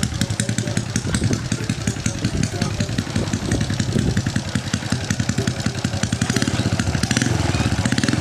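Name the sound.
Honda Dream motorcycle engine idling before taking off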